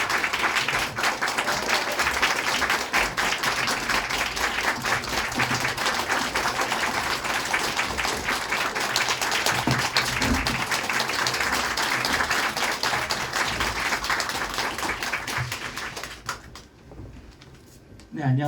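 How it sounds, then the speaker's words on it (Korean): Large audience at a Korean book talk on politics and diplomacy applauding loudly and steadily as three co-authors come out, a dense wash of clapping that fades near the end. "세 분 나오실 텐데 큰 박수 부탁드리겠습니다"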